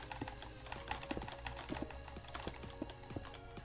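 Rapid butterfly clicking on a computer mouse during a Minecraft-style PvP session, a dense, quiet stream of fast plastic clicks with a few slightly stronger taps scattered through.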